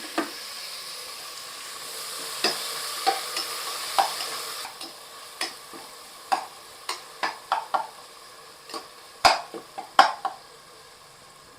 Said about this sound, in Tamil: அடுத்து இமீடியட்டாக ஒரு 2 மீடியம் சைஸ் தக்காளி ஸ்லைஸ் பண்ணி வச்சுருக்கேன்,